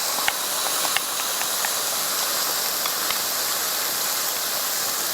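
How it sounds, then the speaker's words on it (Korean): Sauce poured over stir-fried onions and green peppers sizzles and bubbles in a hot pan, a steady close hiss with scattered small pops throughout. "이제 소스가 빠글빠글 끓죠"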